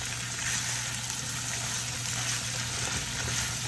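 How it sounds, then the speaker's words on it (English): Ackee cooking down in a pan with salt fish for the Jamaican national dish, giving a steady, close, continuous sizzle and bubbling hiss with no talking. "I've added the ackee. And so I'm just cooking this down now."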